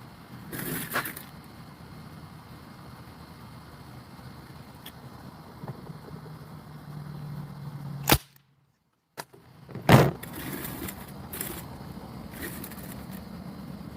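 High-pressure pellet gun fired into a book indoors, one sharp crack near 8 s followed by a brief drop to silence and a loud thud around 10 s, with faint room noise and handling clatter around it.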